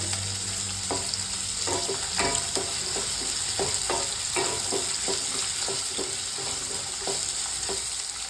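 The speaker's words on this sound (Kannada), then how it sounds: "ಇದಿಷ್ಟು ಹಾಕಿ ಫ್ರೈ ಮಾಡಬೇಕು." Ingredients for gooseberry chutney frying in a pan: an even hiss of hot oil with a rhythmic series of spatula strokes and clinks, close and moderately quiet, with no speech.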